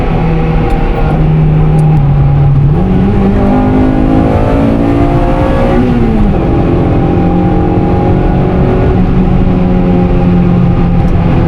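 Honda VTEC engine revving hard at a Japanese car meet, loud and steady with rising and falling harmonic pitch sweeps as the revs climb and drop, continuous throughout.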